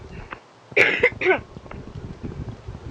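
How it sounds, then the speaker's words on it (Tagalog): Two sharp coughs up close, followed by quiet background rustling and soft movement. "Sorry, may ubo ako."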